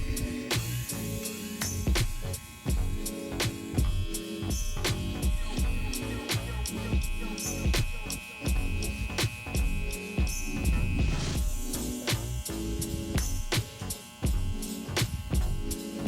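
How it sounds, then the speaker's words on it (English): An electric hair trimmer buzzes steadily while outlining sideburns and the back of an undercut fade haircut, with a close, continuous hum and small clicks throughout and no talk. "we're gonna use the trimmer, and we're gonna make the sideburn pointing"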